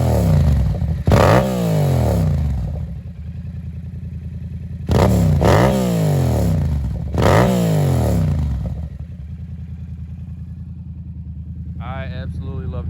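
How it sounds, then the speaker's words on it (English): A 2021 Yamaha MT-07 motorcycle engine idles with a low rumble and is revved sharply three times, each rev rising and falling back to idle, with a brief voice near the end. "Rev it a little."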